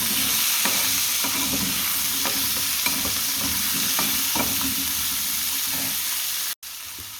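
Chicken vegetable stew frying in a pan, a steady close sizzle with regular scraping stirs of the spoon about every half second, stopping abruptly near the end.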